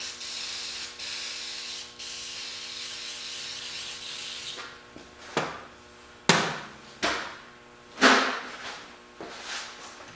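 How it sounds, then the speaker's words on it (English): An aerosol sprays down a car turbo-system part in a long hissing burst with brief pauses, followed by several sharp clanks and knocks of the part being handled nearby; no one talks. "Spray this down."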